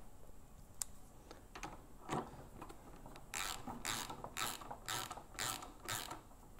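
A part is screwed back in hand tight on a Graco Magnum X5 paint sprayer, making creaking, ratcheting thread turns in a steady rhythm of close, repeated twists.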